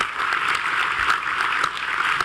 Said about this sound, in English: Let's give him a round of applause for his good work.